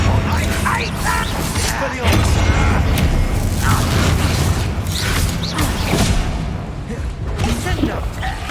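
A blasting spell explosion from Hogwarts Legacy, heavy booming impacts and mechanical crashes amid chaotic combat, with a voice talking over the fight.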